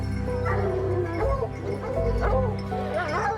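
A pack of hunting dogs left abandoned at a forest site barks and yips repeatedly at close range, with whimpering mixed between the sharp calls.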